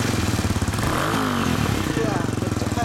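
A 2015 Honda Grom motorcycle fitted with a World Walk aftermarket exhaust idles nearby, its single-cylinder note a steady throbbing burble that swells slightly midway before settling back.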